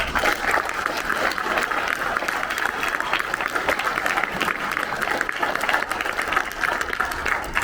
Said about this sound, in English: I encourage you to give all three of our party leaders here a resounding good morning round of applause.